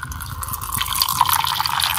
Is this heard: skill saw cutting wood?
no